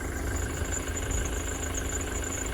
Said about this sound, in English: And that is a noisy engine.